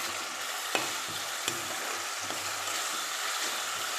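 Ginger garlic paste fries with onions in a pan, a continuous close sizzle with a few faint clicks of a spoon or ladle, steady and unbroken, with no voices.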